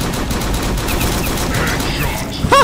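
Automatic gunfire in the shooter game UberStrike rattles steadily and loudly in quick repeated shots, with a brief voice breaking in near the end.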